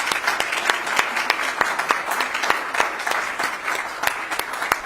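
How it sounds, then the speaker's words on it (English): Audience giving a round of applause at an art collection event in New York, with dense clapping and distinct sharp individual claps standing out near the microphone. "So let's do, first of all, a round of applause"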